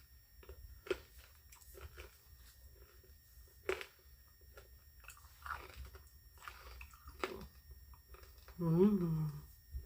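Close, crisp crunching and biting on a hard candied caramel cookie bar, with irregular chews and cracks spread over several seconds and a brief hum of voice near the end.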